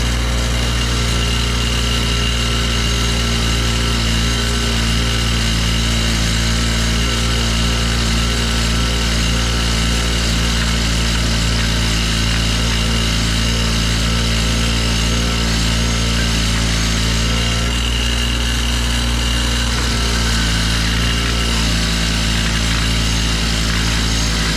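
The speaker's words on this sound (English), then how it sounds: "So, let's take it to the wire wheel." A wire wheel whirs steadily and loudly against an engine's seal surface on a 1980 Pontiac Trans Am, a continuous close grinding drone with a slight change in tone partway through.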